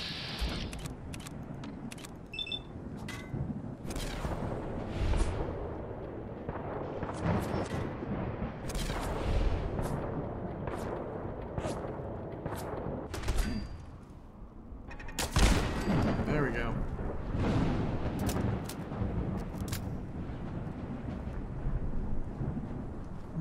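Fallout 4 gunfire rattles through a firefight in rapid, irregular bursts. It sounds near and heavy, with booming blasts and a dense background rumble that lasts the whole stretch.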